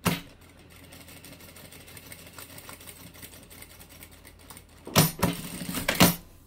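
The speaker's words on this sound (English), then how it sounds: "Backstitch and then stitch to the end with a backstitch." A sewing machine stitches a lined zippered boxed bag, with a soft, quiet stretch of handling followed by two short, louder bursts of rapid mechanical stitching near the end.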